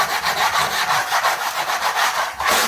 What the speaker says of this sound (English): starts working around with his trowel